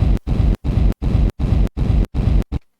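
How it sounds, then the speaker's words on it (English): Seven heavy distorted kick hits with a crunchy reverb wash, evenly spaced and loud, each cut off sharply, then silence. "That's the crunch that I just rendered out."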